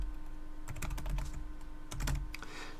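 Computer keyboard typing in bursts of quick clicks, with a faint steady background hum, recorded close and fairly quiet.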